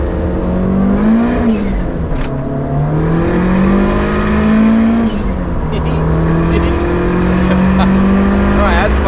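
A Toyota Starlet GT Turbo drives on the Nürburgring, its engine loud and close, rising and falling through revs and gear changes with a rough, buzzing note. A person talks over it.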